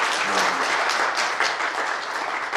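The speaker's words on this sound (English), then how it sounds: "Let's give them both a round of applause." A brief round of audience applause at an academic colloquium, steady dense clapping from a room of listeners throughout, with no voices over it.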